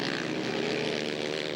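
A four-cylinder ice race car blasting down the straightaway at a frozen-lake winter race, its engine a loud, steady, buzzing drone held close throughout the short stretch with no voices.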